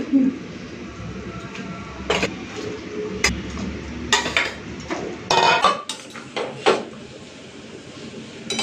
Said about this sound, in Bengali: তো গ্রেভিটা ফুটে উঠেছে এখন এই মাছগুলো দিয়ে দিচ্ছি